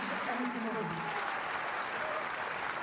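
Tennis crowd applauding at the 2025 London final, a sustained wash of clapping throughout, with a voice briefly audible early on under it.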